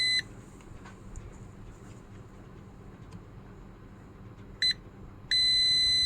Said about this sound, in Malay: So kita set dekat buzzer dulu